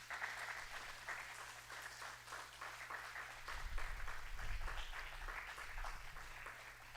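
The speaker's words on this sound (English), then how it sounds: "You all can join us in welcoming him with a round of applause" An audience at an audio visual presentation by artist Jagannath Panda gives a warm round of applause, steady dense clapping that swells slightly midway and carries on to the end without talk.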